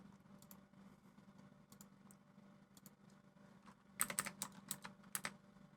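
Quiet computer-keyboard typing while renaming files: a few scattered soft key taps, then a quick burst of sharper, closer keystrokes near the end over a low steady hum.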